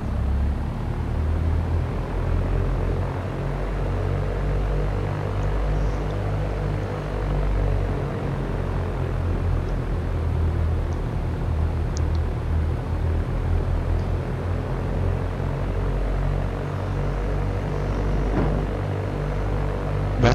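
A simulated Cessna engine in the X-Plane 11 flight simulator, heard from a home cockpit with throttle added: a steady, loud propeller drone with a deep, even rumble that holds for the full stretch without voices.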